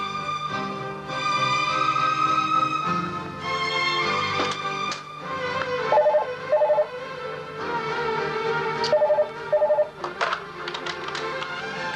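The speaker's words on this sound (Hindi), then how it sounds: "हाँ वफा, आपके लिए फोन है।" A telephone rings in an office setting, its electronic warble repeating in short bursts over a continuous background of music, loud and close throughout.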